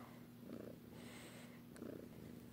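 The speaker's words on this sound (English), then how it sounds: "Kitty ASMR." A pet cat purrs close up and softly, a low rumbling drone that swells in gentle breathy pulses against near silence.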